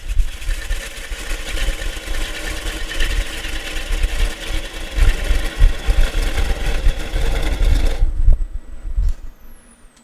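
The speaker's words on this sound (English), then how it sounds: "I'm going to take a cut here. This is an M2 high-speed steel swept back wing type gouge" A wood lathe turns a punky spalted maple bowl while an M2 high-speed steel swept-back wing gouge takes a finish cut. It makes a loud, rough rumbling drone with scraping texture, then stops abruptly near the end, leaving a faint whine.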